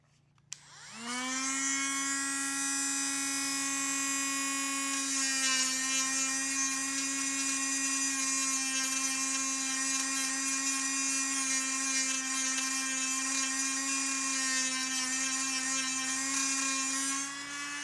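A high-pitched power tool smoothing a cut edge, a steady close whine with strong harmonics running continuously for about seventeen seconds without talk.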